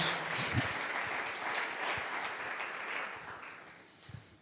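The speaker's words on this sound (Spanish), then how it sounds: "Dale un fuerte aplauso a Él en esta noche." Church congregation applauding during a Spanish-language worship service, a steady wash of clapping that fades slightly toward the end, with a faint voice underneath.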